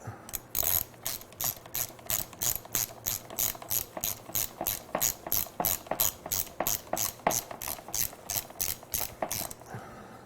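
A ratchet wrench turning a 10mm socket, a long run of rapid, even metallic clicks in quick bursts, close and clear with no talking.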